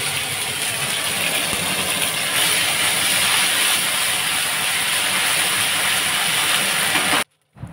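Ginger and cumin sizzle loudly in a smoking-hot pan, a dense steady hiss that holds unbroken for about seven seconds and then cuts off abruptly.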